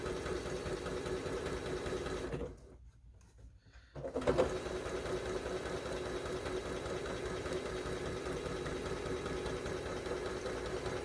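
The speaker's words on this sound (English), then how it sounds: "Do I leave this open as I'm sewing this?" A sewing machine stitching quilt fabric runs steadily and close, with a fast even mechanical whir that stops briefly partway through, then restarts and continues.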